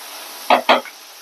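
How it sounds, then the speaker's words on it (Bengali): Spice paste of ground turmeric, coriander and cumin with a splash of water frying in a pan for a fish-head curry, heard as two brief close stirring scrapes with a sizzle over a steady low frying hiss. "মশলাটা কষাবো বেশ কিছুক্ষণ।"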